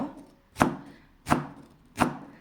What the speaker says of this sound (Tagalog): ipapakita ko sa inyo ang tamang paghawak ng gulay na hihiwain at saka yung knife